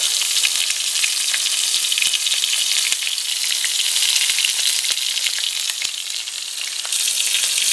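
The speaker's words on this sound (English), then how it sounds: "It's really starting to crackle and pop" Steak frying in a pan on a stovetop gives off a steady, loud sizzle with frequent sharp crackles and pops scattered throughout, and no one speaks.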